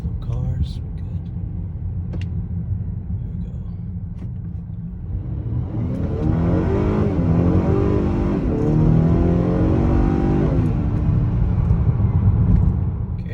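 A 2018-2020 Honda Accord 2.0 turbo fitted with a high-volume intake accelerates, its engine rumble rising into a swelling rev with turbo whir, steady and close from the start and louder through the latter half.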